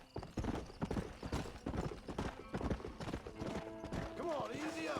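Hooves of a galloping horse in Red Dead Redemption clatter rapidly and steadily, with a whinny near the end and a voice speaking over the action.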